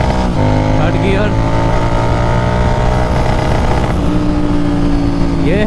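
Royal Enfield GT 650 with a Red Rooster exhaust running in third gear, a loud, steady twin-cylinder roar held close for several seconds, dipping briefly before climbing again with a rev toward the end.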